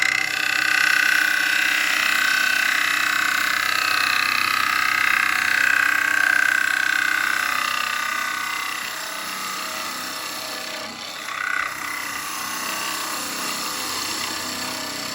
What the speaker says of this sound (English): That's where a spindle gouge comes in.